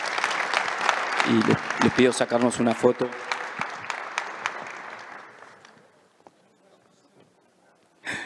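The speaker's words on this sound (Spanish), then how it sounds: "les pido un aplauso para los panelistas" An audience at a panel discussion claps for the panelists, a steady wash of hands under a speaker's voice that thins and fades out, followed by near silence and a brief burst at the very end.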